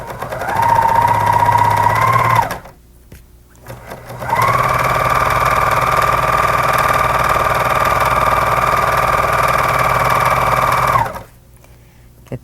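A serger sewing machine stitches along the edge of a quilt, its steady whirring hum running in two long bursts separated by a short pause, close and loud.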